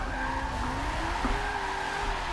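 Tires squealing from a drifting car with a Ford V6 engine in a racing video game, a steady, moderately quiet skid with engine drone underneath and a wavering pitch, no talking.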